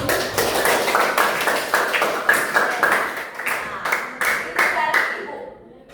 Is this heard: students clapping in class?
yes